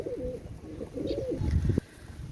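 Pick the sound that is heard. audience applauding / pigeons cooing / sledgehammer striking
pigeons cooing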